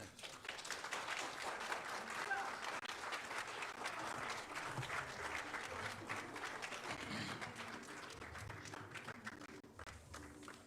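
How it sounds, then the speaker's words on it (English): A large gathering at the Bawku mediation report presentation gives the Asantehene, His Royal Majesty, a long round of steady applause, dense and continuous, with faint crowd murmur beneath. "Shall we please give His Royal Majesty another big round of applause?"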